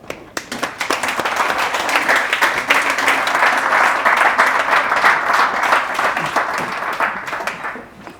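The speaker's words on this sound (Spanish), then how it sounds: "Un aplauso." Audience applause welcoming a sustainable finance panel, starting with a few scattered claps, quickly swelling into full, brisk clapping from a room of people, then thinning out after about eight seconds.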